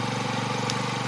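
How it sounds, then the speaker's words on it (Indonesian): A Honda PCX 160 scooter engine idles steadily and close by, with a dense, slightly rough rhythmic putter that holds at an even level throughout. "kalau PCX 160 emang suaranya begini ya teman-teman"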